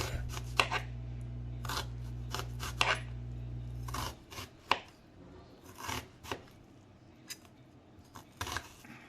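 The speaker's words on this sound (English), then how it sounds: "that's why I'm dicing this onion" A knife dices an onion on a cutting board, producing a series of crisp, irregular chops and slicing taps, fairly close, over a low hum that stops partway through.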